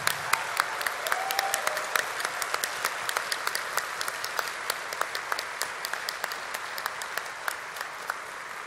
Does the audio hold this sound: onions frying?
no